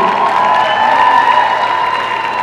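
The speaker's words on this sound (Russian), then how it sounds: "эти аплодисменты и шум." An audience at a dance showcase in Russia applauds and cheers steadily, a dense wash of clapping and crowd noise with a whistle-like tone running through it.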